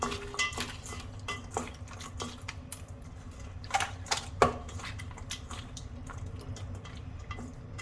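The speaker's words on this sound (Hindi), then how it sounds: "अब इसको भी मिक्स कर लेना है मटन को ऐसे हाथों से" Mutton for Sindhi seyal mutton is worked by hand with cumin powder and other spices in a dish: close, soft wet squelches and scattered clinks and taps of the container, with no talking.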